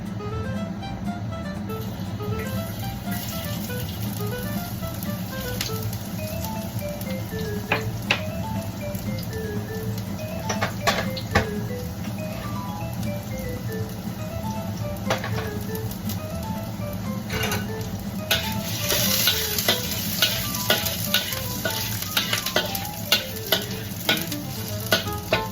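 Garlic fries in hot oil in a wok as a pork and pineapple dish gets started, giving a steady close sizzle with scattered crackles and a few brighter spatters. The sizzle carries on alone for the whole stretch.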